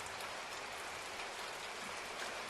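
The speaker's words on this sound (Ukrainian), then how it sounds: "От уже й дощ починається." Rain falls in a cartoon scene as a steady, dense, even hiss of drops, continuous and moderately quiet with no voices over it.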